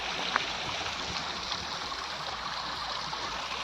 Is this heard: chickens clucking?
no